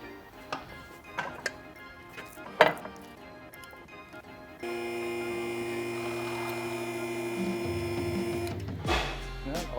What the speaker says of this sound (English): now we're gonna rack up the vehicle